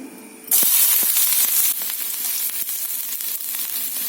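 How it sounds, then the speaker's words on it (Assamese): Chopped ginger, garlic and chillies dropped into hot refined oil in a pan, bursting into a loud, steady sizzle and hiss that starts abruptly and continues close up without talk. "টাৱাখন গৰম হোৱাত দি দিছোঁ ৰিফাইন আৰু ইয়াত দি দিম এইখিনি কাটি থোৱা আদা, নহৰু আৰু জলকীয়াখিনি"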